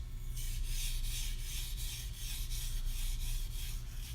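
An Anryu gyuto knife is drawn over a Suehiro Debado 1K sharpening stone in steady rasping strokes, about ten even back-and-forth rubs at close range and moderate level, with no talking.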